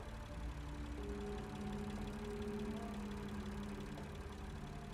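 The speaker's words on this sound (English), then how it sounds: "Judging by the engine noise and the smell." A steady engine drone with a low hum and faint tonal whine runs continuously and fairly quietly in the Lost Horizon adventure game, alone without speech.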